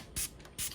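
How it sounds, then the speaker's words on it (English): Alcohol is sprayed from a spray bottle onto a Cereus forbesii monstrose cactus in two quick, crisp hissing bursts, close and fairly soft. "with the spray of alcohol."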